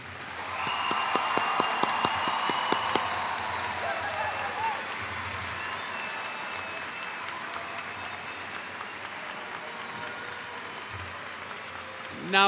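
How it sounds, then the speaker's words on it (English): Sustained applause from a large audience for the graduates at a high school graduation ceremony, loud and even at first, then gradually thinning and fading away, with voices murmuring under it. "Could we give our graduates a round of applause, please?"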